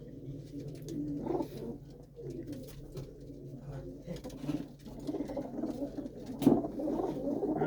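Pigeons cooing in a loft in Punjab, soft low throaty coos repeating in overlapping bursts from several birds nearby, with light rustling and patter between calls.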